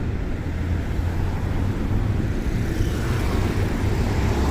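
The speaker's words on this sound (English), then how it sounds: "as you can hear, it's a bit windy, moderate, and apparently it's gonna get even stronger" Moderate wind buffets the microphone on a Tokyo street, a steady, loud low roar that goes on unbroken while traffic rumbles faintly beneath it and no one speaks.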